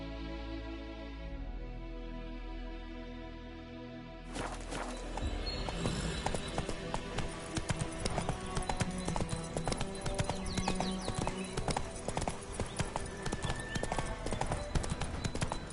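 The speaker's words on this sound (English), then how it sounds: "Whoa there, Roach." Horse hooves clip-clopping in a PS4 video game, a quiet lead-in followed by a loud, brisk run of rhythmic hoofbeats that continues to the end.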